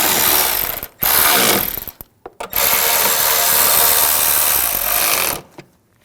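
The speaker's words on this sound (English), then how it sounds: "And these two bolts. And tighten these down." A hand ratchet tightens bolts on the auxiliary water pump of a 2006-2009 Audi S4, loud close rapid clicking in several bursts separated by short pauses.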